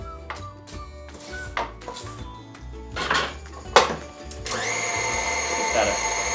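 An electric mixer whirs through dense pound cake batter, starting in short bursts with bowl knocks and scraping, then settling into a steady, close mechanical drone.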